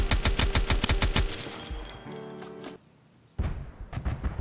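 In the Escape from Tarkov video game, an AGS grenade launcher fires a rapid automatic burst of heavy thumping shots, followed by mechanical clanks, a brief hush, then renewed distant rumbling.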